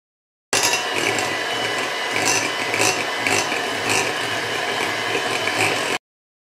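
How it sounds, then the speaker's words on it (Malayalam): An electric hand mixer beats plum cake batter of butter, eggs, sugar and vanilla essence in a bowl, a steady loud mechanical whir with rattling, uninterrupted for several seconds. "ഇനി ഇതിലേക്ക് ഒരു ടീസ്പൂൺ വാനില എസൻസ് കൂടി ചേർത്ത് വീണ്ടും നന്നായിട്ട് ബീറ്റ് ചെയ്തെടുക്കണം"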